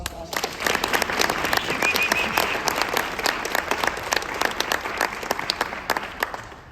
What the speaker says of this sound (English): let's give her a round of applause for all she does